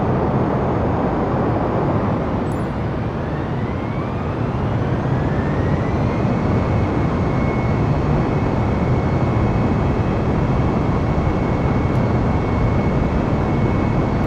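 An airliner departing runway 27 West at Norwich in a flight simulator game, a loud continuous engine roar with a rising whine sweeping upward that settles into a steady high tone.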